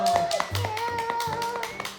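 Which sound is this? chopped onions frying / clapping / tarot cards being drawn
clapping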